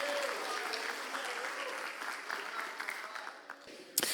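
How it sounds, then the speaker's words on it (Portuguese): A church congregation applauds in praise, sustained clapping from many hands at moderate distance, fading slightly near the end with a sharp knock at the close. "vamos dar aquela linda salva de palmas com glória a Deus"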